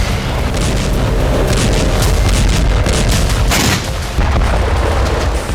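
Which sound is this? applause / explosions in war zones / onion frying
explosions in war zones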